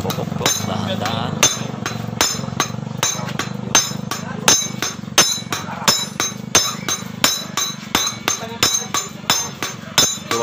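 Light hammer taps on a Suzuki X4 motorcycle clutch housing part, a long run of quick, sharp metallic knocks that come in uneven clusters and grow more regular, close up over a low steady hum.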